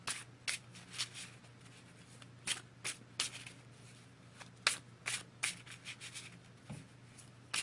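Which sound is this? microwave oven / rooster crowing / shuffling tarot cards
shuffling tarot cards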